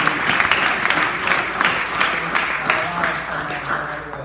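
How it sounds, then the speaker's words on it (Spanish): A church congregation in Nicaragua applauds during a Sunday service with steady, somewhat uneven clapping, individual claps audible, and some talking underneath as it carries on. "Quiero que le regalemos un aplauso, ¿verdad?"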